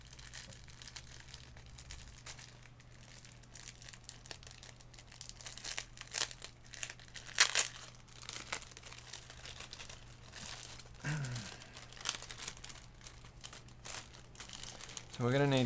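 Packing tape crinkling and tearing in bursts as its end is found and peeled from the roll during a custom ML-104 keyboard build, rustling steadily under a steady hum with occasional sharper rips.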